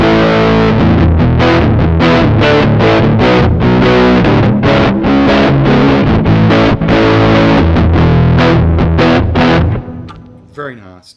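An electric guitar on its neck pickup runs through a JOYO pedal at high gain, playing a long run of loud, distorted chord stabs in a steady rhythm that ends in a fading ring. A voice speaks briefly over it.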